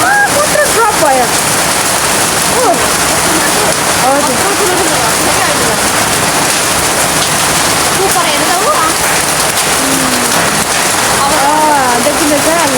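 Hail and rain falling outdoors, a dense, loud, continuous clatter and hiss of hailstones striking surfaces close by, with voices speaking over it.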